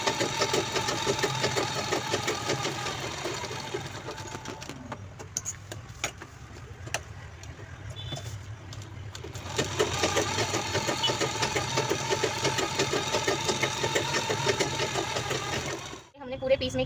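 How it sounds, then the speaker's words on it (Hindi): Sewing machine running in long steady bursts, quilting diagonal stitch lines across purse fabric, its motor whir continuous and close with a short pause midway, while someone speaks over it. "ऐसे तिरछा तिरछा जो सिलाई है वो पूरे पीस में हमें लगा लेनी है।"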